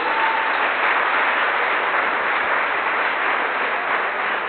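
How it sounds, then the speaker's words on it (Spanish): A church congregation claps loudly in praise of the Lord during a service, a dense continuous wash of applause that stays strong and even the whole way, with no speech over it. "Démosle el aplauso fuerte al Señor, por favor"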